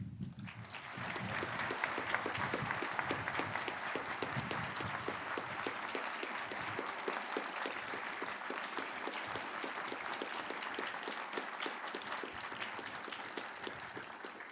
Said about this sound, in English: Please join me in applauding her return.